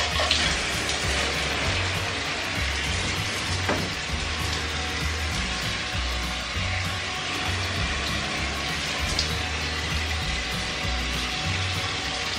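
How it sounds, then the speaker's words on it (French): Plant cuttings of a Monstera adansonii being watered, a steady soft trickle and splash of water that runs throughout at an even level, close by, with no voices. "Je vais arroser un dernier petit coup."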